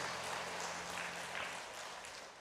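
Congregation applause in a church during a Sunday worship service, a steady dense wash of clapping from many hands filling the whole clip at moderate level with no speech over it.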